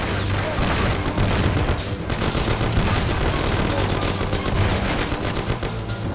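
Sustained automatic gunfire from a shootout in the video game Mafia: City of Lost Heaven, with dense overlapping bursts and booms filling the whole stretch at a steady loud level.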